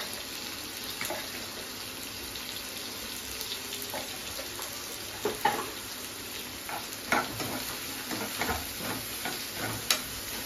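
Onions and spinach leaves fry in a pan, giving a quiet, continuous sizzle with scattered scraping taps of a spatula stirring through the greens.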